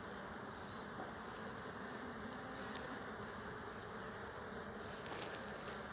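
Faint, steady hum of many honey bees buzzing at a hive, a dense, even drone with no talking.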